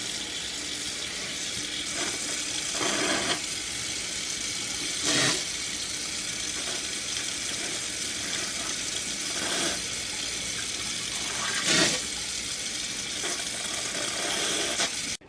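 Tap water runs steadily into a sink while a DTF printer ink syringe is rinsed out, a continuous hiss with a few brief splashes and knocks spread through it, no voices.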